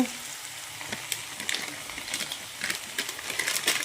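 Turmeric and cumin powder sauté in a pan for ghugni, with a close crackling sizzle and scattered stirring taps and scrapes throughout.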